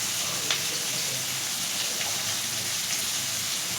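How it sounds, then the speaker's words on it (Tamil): Onions sautéing with curry leaves and mint in a pan for a chicken gravy, giving a steady soft sizzle and crackle like light rain, with faint scattered pops throughout. "இப்போ வெங்காயம் வந்து நம்மளுக்கு நல்லா ப்ரௌன் கலரில் நல்லா வதங்கட்டும்."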